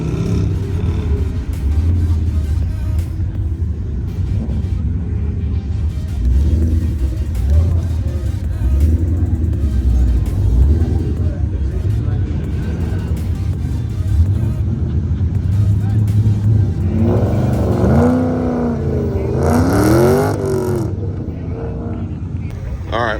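A car on an autocross run at a regional club event, engine droning loudly and steadily throughout, with rising harmonic sweeps of acceleration near the end and voices talking over the engine noise.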